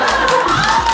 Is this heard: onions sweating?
no